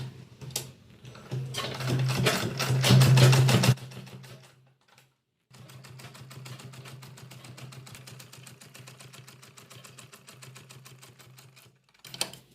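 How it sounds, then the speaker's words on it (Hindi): Sewing machine stitching a fabric strip along a corner for a vegetable organiser bag: a fast, close, rattling run of stitches that pauses briefly, then resumes at a steady and slightly quieter clatter before stopping again, with no voices. "यहाँ से इसकी सिलाई करेंगे, इस कॉर्नर से सिलाई करेंगे।"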